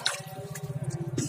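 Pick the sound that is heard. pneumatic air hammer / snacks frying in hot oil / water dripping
water dripping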